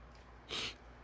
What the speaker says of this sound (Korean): 잠깐 기침이 나와서